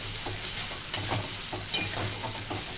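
Potato bharta with crushed fried chili being stir-fried in a pan, with steady scraping strokes of a spatula over a constant low sizzle, close and moderately loud, no voices.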